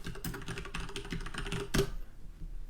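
Computer keyboard typing up close, a quick run of crisp key clicks for under two seconds ending in one harder keystroke, then quiet room tone.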